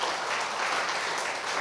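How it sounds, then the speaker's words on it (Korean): Church congregation in a Korean service breaks into a brief burst of applause, thick and steady clapping from many people with no voices audible. "함께 수고한 분들을 위해서 박수 한번 쳐주시기 바랍니다"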